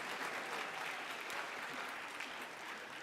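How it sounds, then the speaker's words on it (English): At a school orchestra concert in Florida, an audience claps, a soft but dense and continuous patter of many hands that holds steady with no talk over it. "You can clap, guys, you can clap."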